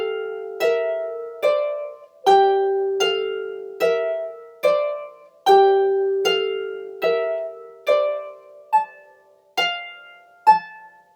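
A harp plays a slow passage from bar 67, about a dozen plucked chords or notes in a steady rhythm, each ringing briefly and decaying, close and clear with no talking.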